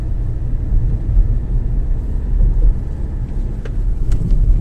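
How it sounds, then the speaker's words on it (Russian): Traffic on a city street in Jelgava rolls past as a steady low rumble of cars, loud and continuous, with a few faint higher clicks near the end and no voices. "Только одни машины."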